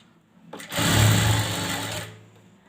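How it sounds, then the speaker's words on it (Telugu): A sewing machine stitches thread piping in one steady, loud run lasting about a second and a half, starting and stopping abruptly. No one speaks. "ఇప్పుడు కుట్టుకుంటున్నాను చూడండి"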